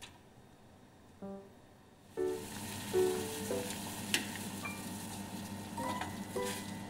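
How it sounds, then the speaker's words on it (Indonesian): Petai beans heat in about 300 ml of water in a pan toward a boil, a steady hissing bubble that begins after a couple of seconds of near-quiet, with a few light clinks close by. "kita campur kira-kira dengan 300 ml air, lalu kita rebus sebentar saja hingga mendidih"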